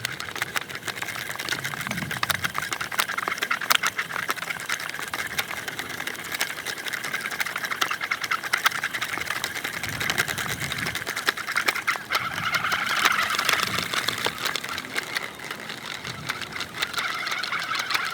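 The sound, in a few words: line spooler winding 50-pound Spro fishing line onto reel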